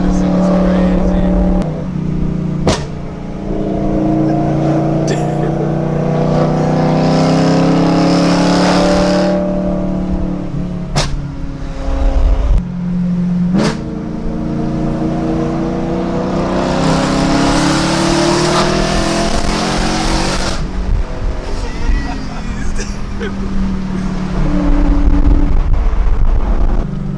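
A BMW M3 on a canyon run revs hard through the gears, loud rising and falling engine pulls broken by sharp shift cuts, with people talking over the roar.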